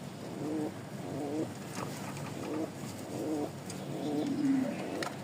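Pigeons kept as breeding pairs coo in a steady series of low, rounded calls, about five phrases spaced roughly a second apart, close by over a faint background hiss.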